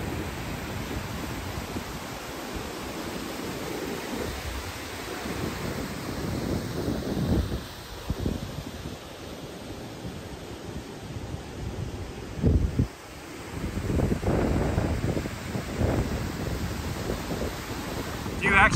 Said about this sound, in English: Why is it so windy up there?